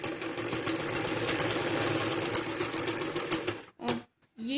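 Sewing machine stitching a fancy salwar, a steady fast motorized hum with needle clatter running for several seconds before stopping, followed by a few brief short bursts.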